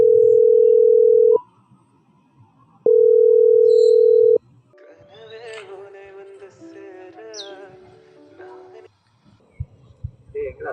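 A telephone dial tone sounds in two steady beeping bursts as a call is placed, followed by a voice talking with melodic tones in the background.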